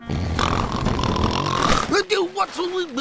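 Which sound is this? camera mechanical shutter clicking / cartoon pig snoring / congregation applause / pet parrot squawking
cartoon pig snoring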